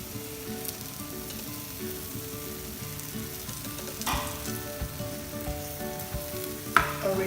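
Butter sizzles steadily in a pan greased with vegetable oil ahead of pancake batter, a constant close crackle with a few louder spits and pops near the end.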